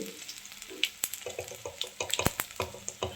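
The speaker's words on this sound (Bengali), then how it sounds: "তেল গরম হয়ে গেছে, এর ভিতরে দেবো আমরা আদা পেস্ট, সাথে দেবো 4টে শুকনো লঙ্কা, সাথে জিরা, আস্ত জিরে" Ginger paste, four dried red chillies and whole cumin seeds frying in hot oil in a home kitchen, a close, steady crackling sizzle broken by sharp pops and a few louder spits.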